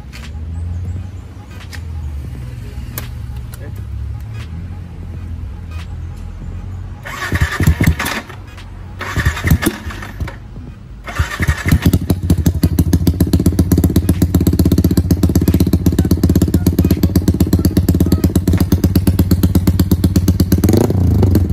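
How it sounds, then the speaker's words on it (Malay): A motorcycle fitted with an Exzos exhaust sputters through a few start attempts, then catches and settles into a loud, steady, close-up idle. "Zul start motor"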